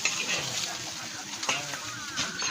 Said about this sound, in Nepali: यहाँ मासु फ्राई मजाले फ्राई गरिरहेको छ